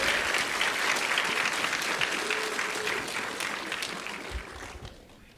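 Audience applause at the Little Cherokee Ambassadors pageant competition, a dense burst of clapping that starts full and gradually fades toward the end.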